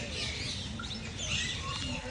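Many parrots chirp and tweet together in an aviary, a dense, continuous chatter of overlapping high calls at close range with no gaps.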